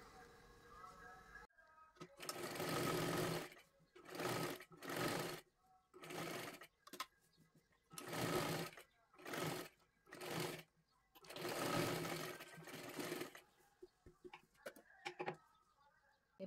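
Sewing machine stitching along a blouse neckline, running in a series of short loud bursts separated by brief pauses, close and clear over a quiet room.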